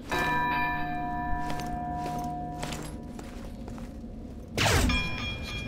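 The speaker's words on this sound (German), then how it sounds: "Wir läuten die Glocke." A church bell tolls inside the video game Castlevania: Lords of Shadow, its long ringing tone slowly fading before a second loud strike near the end.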